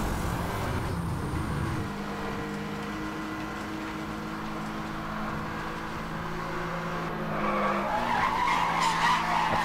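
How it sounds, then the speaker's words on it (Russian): Tires skid as a BMW drifts in the Need for Speed Hot Pursuit racing game, a continuous engine drone and scraping screech running the whole time, growing louder and rougher near the end, with no talk. "Отлично в дрифт в BMW входит."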